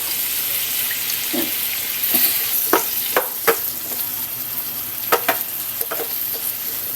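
Squash and string beans being stirred in a frying pan, with a steady sizzle under a run of scraping utensil strokes, some sharper clinks against the pan, and no talking.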